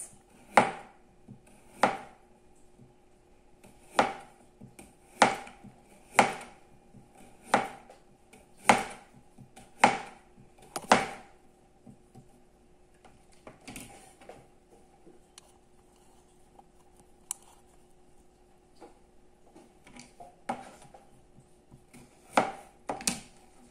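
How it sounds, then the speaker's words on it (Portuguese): Knife chopping a carrot into very thin rounds on a cutting board for a salad, a close run of sharp evenly spaced chops, then a quieter pause and a few final cuts. "E vamos picar em rodelas muito fininhas."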